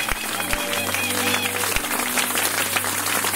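A church congregation applauding and acclaiming at a worship service, sustained clapping and cheering with voices mixed in, steady and fairly close throughout.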